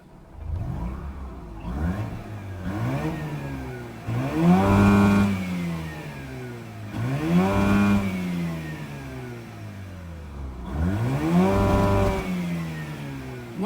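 A Mazda RX8 rotary engine with a disconnected mass airflow sensor revs in several separate bursts. Each one rises, peaks and falls back to idle in a clear repeating pattern, loud and alone.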